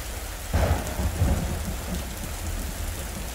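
Steady rain pours throughout in the game Miss Clue: Secret of the Haunted Garden, with a deep, loud thunder rumble rolling in just after the start and fading into the downpour; no one speaks.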